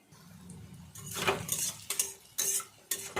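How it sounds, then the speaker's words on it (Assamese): A metal spoon scrapes and clinks against a pan as onions are stirred while frying for a chicken curry. Soft sizzling sits underneath several sharp, close stirring strokes. "পিঁয়াজখিনি ভজা হৈ গ'ল"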